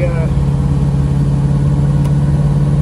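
A 1957 Corvette engine pulls in first gear at a steady, elevated rev with a deep, constant drone. The sound is loud and close, heard from inside the car as it rolls along.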